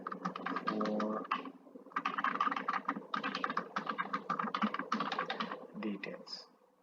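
Rapid typing on a computer keyboard while entering text in MS Excel, with dense bursts of key clicks separated by brief pauses, close and fairly clear.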